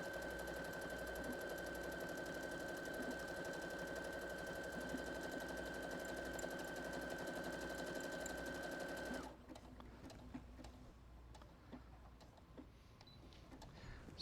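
Brother Innov-is NS80e sewing machine stitching reinforcement through fabric, a fast, even mechanical whir running steadily up close for about nine seconds before stopping abruptly, leaving faint handling noises.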